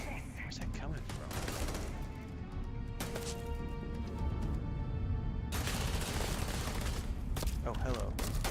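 Bursts of sci-fi gunfire in Starfield: Shattered Space crack out repeatedly amid game noise and a player's speech, shots scattered and fairly close, with a sustained sweep in the middle.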